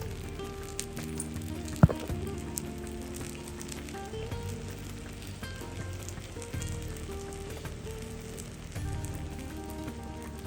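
Paella sizzling in a wide pan over a gas flame, a steady close crackle and hiss running throughout with a brief sharp knock early on.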